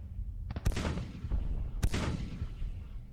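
Heavy gunfire and cannon booms from a battle against an artillery battery in a Civil War strategy game, two sharp loud blasts with several smaller shots rolling in a rumbling background of distant firing.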